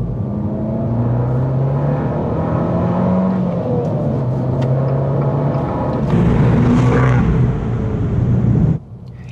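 Abarth 595 engine revving hard for several seconds, a deep bass drone climbing into a sharper high-pitched rasp, loud and close with no talk.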